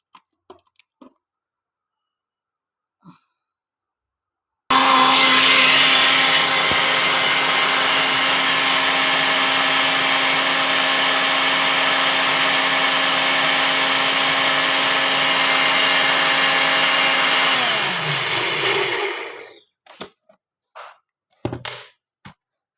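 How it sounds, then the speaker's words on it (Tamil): A mixer grinder whirs loud and steady for about fifteen seconds as it grinds spinach into a paste for palak chicken, then winds down to a stop, with a few faint clicks before and after. "மிக்சியில் நல்லா பேஸ்ட்டாக"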